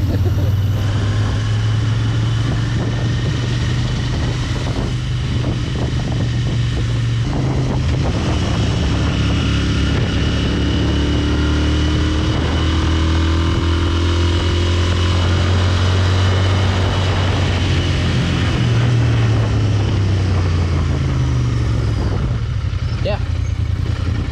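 Royal Enfield Interceptor 650 motorcycle ridden on the road, a steady low engine drone with rising and falling pitch as it changes speed, heavy wind rush, and voices talking over it.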